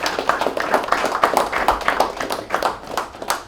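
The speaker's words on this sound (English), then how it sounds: "All right, let's clap it up for EJ." Dense clapping from a group at a team gathering, steady quick hand claps filling the whole stretch at moderate loudness, with a faint voice underneath.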